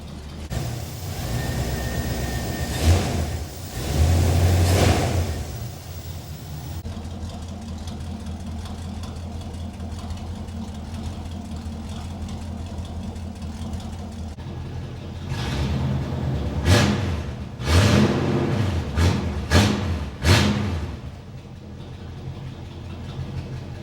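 Propane-fueled squarebody truck engine idling as its fuel runs low, a steady rumbling idle with occasional revving bursts and uneven surges, close and fairly loud, no talking.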